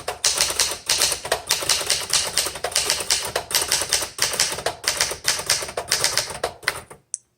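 Rapid, steady keystrokes clatter on a 1971 Remington Ten Forty typewriter, close and loud, with brief pauses between bursts and a final soft click as the typing stops.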